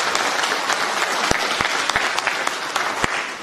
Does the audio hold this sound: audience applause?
yes